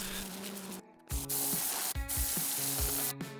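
A pressure washer cleaning patio slabs: a steady hissing spray over a low motor hum, cut by brief pauses when the trigger is released and then resumed.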